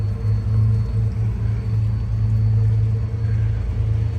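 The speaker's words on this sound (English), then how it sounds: "All right, both engines forward." Twin engines of a Hatteras yacht run in forward gear during tight maneuvering at a marina, giving a steady, loud low rumble with a deep throb throughout and no voices.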